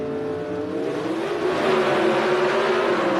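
Pro Stock Chevrolet drag cars at Atlanta Raceway during the 1981 NHRA Southern Nationals roar off the starting line, engines rising in pitch as they accelerate away.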